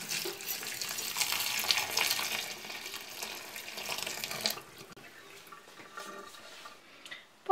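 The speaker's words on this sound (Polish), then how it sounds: "Skórka dobrze wyszorowana i teraz zalewam ją gorącą wodą." Hot water poured over a scrubbed lemon peel, a steady splashing stream running for several seconds before stopping, followed by quieter handling sounds and faint drips.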